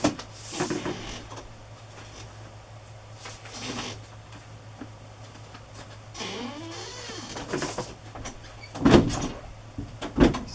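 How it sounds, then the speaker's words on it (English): A squeaky closet door with a shoe organizer hanging on it opens, giving several scattered creaks and squeals with soft knocks and rattles, moderately close and fairly quiet against a low room hum. "Sorry for my noisy closet door."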